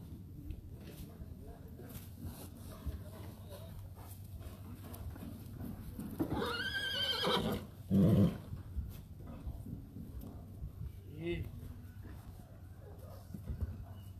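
A horse lets out a single rising, shaky neigh in a stable, heard briefly mid-way over steady background noise while people talk nearby.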